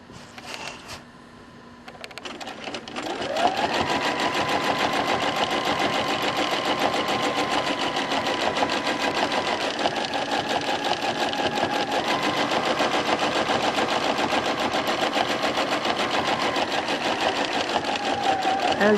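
A domestic sewing machine stitches a feathered border in free motion quilting, a steady fast mechanical whir running continuously after a short start, close and alone.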